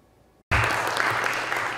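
Applause breaks out as Trevon Fordham formally begins his job as Director of the Office of Violent Crime Prevention, a sudden, loud burst of many hands clapping after a brief hush, continuing steadily to the end.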